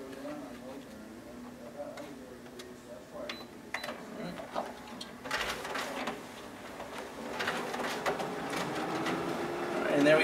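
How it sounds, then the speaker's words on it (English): The document feeder of a Canon IR C2550 copier pulls test copies through with mechanical whirring, clicking and rolling sounds that build toward the end, while a person talks over it. "And there we have our document feeder working."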